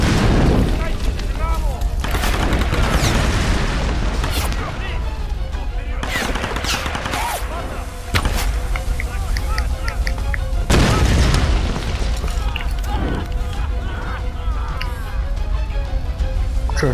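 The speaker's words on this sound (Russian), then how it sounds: "сейчас будет перестрелка" Rapid bursts of gunfire mix with heavy booming explosions in a Tomb Raider shootout, a dense and loud barrage lasting the whole stretch with repeated sharp blasts and faint voices underneath.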